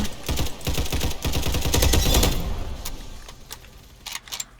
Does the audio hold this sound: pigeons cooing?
no